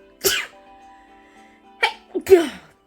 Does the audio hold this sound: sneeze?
yes